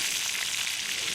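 Lenok and grayling fish fry in a pan over a wood fire by a taiga river, giving a steady, close, dense hiss and crackle of sizzling oil with no voices.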